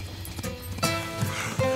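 A horse heard briefly, with hoof clatter and movement among other sounds and low background noise in a short burst.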